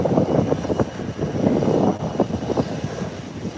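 An airplane taking off at Howard Hamilton International Airport sends a continuous, rumbling engine roar from some distance, fluctuating gently with no voices over it.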